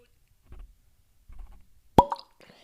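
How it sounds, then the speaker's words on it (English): A synthetic cork pops out of a whiskey bottle with one sharp, bright pop near the end, preceded by faint low handling rustles and followed by a brief ringing tail; quiet and close. "cork pop"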